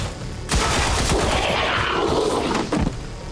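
Gunfire in XCOM 2, a sharp shot followed by a loud sustained burst of gunfire and a second crack, close and dense.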